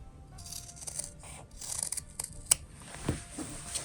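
Scissors trim fabric for a heart-shaped reversible fabric bowl, making quiet close snips and soft rustling in short, irregular bursts with no voices.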